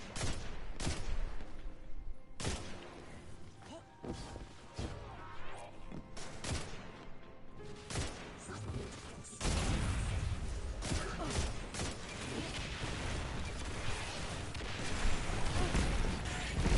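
Rapid bursts of gunfire in the video game Destiny 2, sharp repeated shots that fall into sporadic clusters before a sustained, denser barrage of fire and impacts in the second half.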